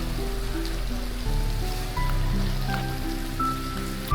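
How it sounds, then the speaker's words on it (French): A small decorative fountain at a town in Cambodia, water running and splashing steadily in a continuous wash, fairly close, with faint background tones and no talk. "il y a une petite fontaine et tout"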